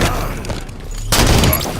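Rapid gunfire from sniper rifle, shotgun and automatic weapons in a Halo 5 Infection match: a dense burst of loud, overlapping shots, a brief lull, then another sharp volley, with no voices.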